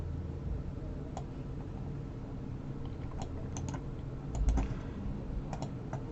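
Faint, sparse keystrokes on a computer keyboard tap out in scattered clusters over a quiet room hum, close but soft, with a slightly louder clack near the middle.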